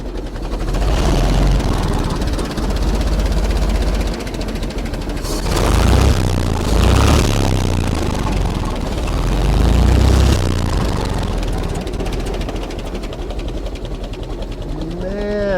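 A 1907 Renault IA car engine idling, a steady, smooth mechanical chugging that runs continuously and loudly up close, with brief voices talking over it toward the end.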